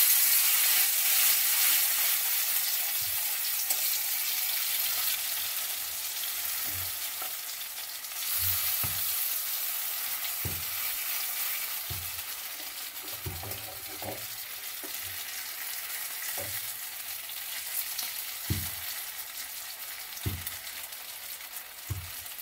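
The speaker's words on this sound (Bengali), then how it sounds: "বড়া আমার লাল লাল করে ভাজা হয়ে গেছে, এবার নামিয়ে নেব।" Drumstick flower fritters (sajne phool bora) fry in hot oil with a steady close sizzle, broken by scattered clicks and scrapes of a utensil turning them, and no voices.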